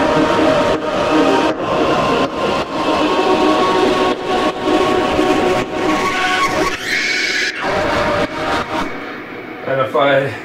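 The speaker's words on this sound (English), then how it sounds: "this fades in with a high-pass filter, and eventually just you get this really gnarly sound" Choir synth patch pushed through Decapitator drive, fading in under a high-pass filter into a gnarly, dense, distorted wash that holds loud and continuous for around ten seconds.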